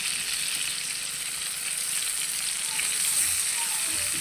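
Onion goes into hot oil that already holds garlic for a spicy country-style chicken bhuna, and a loud steady sizzle hisses continuously close by without pause.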